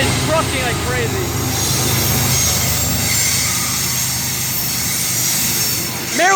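CSX Q415 freight train with a DPU rolls slowly past Point of Rocks station, a steady loud rumble of railcars with squealing wheel tones rising near the start and end, and voices talking nearby.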